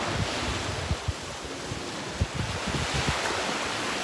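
Ocean surf rolls onto a beach at sunset under steady wind, a continuous wash of waves with gusty microphone buffeting and occasional low thumps.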